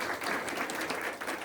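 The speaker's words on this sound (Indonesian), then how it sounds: "kasih tepuk tangan" A room of colleagues at a company monthly meeting claps together, a steady dense patter of many hands held for a moment at moderate volume with no talking over it.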